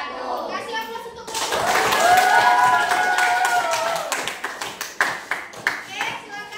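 Classroom clapping from a group of students swells into steady applause, then tapers into scattered individual claps, with children's voices chattering over it.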